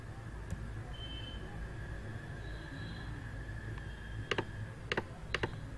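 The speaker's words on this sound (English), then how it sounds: "type in the server name." Computer keyboard keys tapped in a few quick clusters near the end, faint clicks over a steady low hum and room noise while entering a server name.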